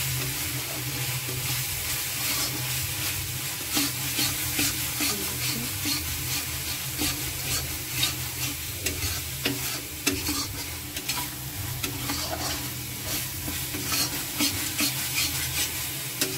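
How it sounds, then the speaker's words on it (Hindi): Spice masala of turmeric, red chilli and coriander powder frying and being stirred in a pan for okra curry, with a steady sizzle and repeated spoon scrapes close by, no talk. "इसमें 5 से 10 मिनट तक अच्छे से भूनूंगी"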